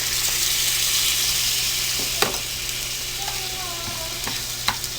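Chicken fajitas sizzle and fry in a very hot pan, a dense continuous hiss with a few light clicks and pops scattered over it.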